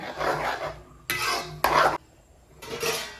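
A lid goes onto a pot of simmering chicken curry, with three or four short, bright metallic clatters and scrapes close by, separated by brief quiet gaps.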